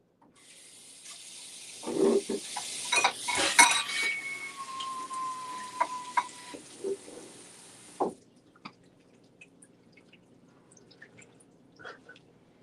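Water runs from a sink tap over dishes for about eight seconds, with clinks of dishes and glass, then stops, leaving faint drips and occasional soft clatters in a quiet kitchen.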